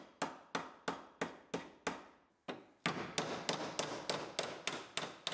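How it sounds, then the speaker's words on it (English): Hammering out the damaged metal floor of a GMC Yukon hit by a semi, a steady series of loud, close, ringing hammer blows, about three per second, with a brief pause midway and no talk. "We're going to hammer out the floor a little bit"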